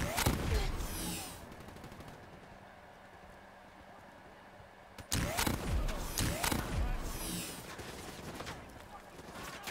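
Bursts of rapid automatic gunfire in the video game Call of Duty Black Ops 3, loud rattling volleys at the start and again after a quieter stretch, with someone talking in between.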